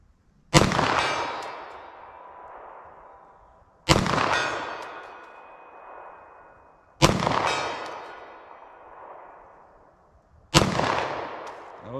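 Four sharp 9mm pistol shots are fired at a silhouette target 75 yards away, spaced a few seconds apart. Each loud crack trails off into a ringing echo, with no talk in between.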